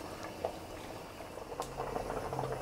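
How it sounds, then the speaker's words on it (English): Corn cobs cooking in a pot of water at a full rolling boil, a steady bubbling and popping that continues alone at moderate, close level for the whole stretch. "now that our water has come to a boil, let's go ahead and let these cook for 15 minutes."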